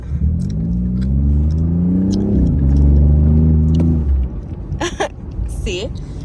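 A BMW i8 engine drones and rises in pitch as it accelerates, a strong harmonic tone climbing for about four seconds before cutting off, followed by brief clicks and faint noises.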